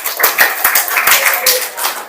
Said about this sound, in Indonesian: Tepuk tangan untuk Said.